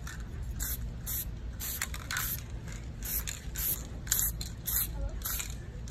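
Short, repeated hissing bursts of spray paint coat flowers for a floral arrangement, the quiet puffs coming in an uneven rhythm over a low background rumble.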